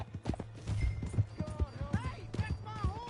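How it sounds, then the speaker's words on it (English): Horse hooves clip-clop at a steady trot in Red Dead Redemption 2, paired with tonal whistles and snorts, while voices talk over the hoofbeats. "Hey, that's my horse!"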